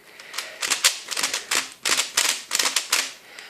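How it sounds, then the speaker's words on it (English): A Yuxin 3x3 speed cube is turned in quick bursts, giving sharp plastic clacks and a noticeable snap on each turn, dense rapid clicking at close range with brief pauses between sequences and no talking. "there is a very noticeable snap, just a sound that can put you off if you don't like that when you are reverse corner cutting"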